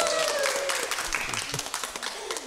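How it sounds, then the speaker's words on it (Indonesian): A stand-up comedy audience applauding, a burst of clapping that is full at first and then thins into scattered claps, with someone talking over it. "Tepuk tangan dulu tuh dosen ya."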